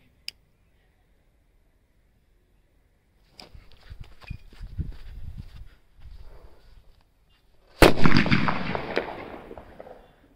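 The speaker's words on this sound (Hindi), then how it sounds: "देखते हैं कैसा ब्लास्ट होता है" After quiet rustling and a few soft taps, a single loud Diwali firecracker bomb blast booms nearby, its rumble trailing off over a couple of seconds.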